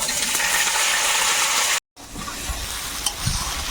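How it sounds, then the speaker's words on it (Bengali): Dried red chilies and mustard seeds sizzle in hot oil in a kadai while mango chutney is being made, a loud steady frying hiss close by, broken by one brief cut, then continuing with light clinks. "একটু শুকনো লঙ্কা আর সর্ষে দিলাম, আর চাটনিটা এখানে চাপাবো।"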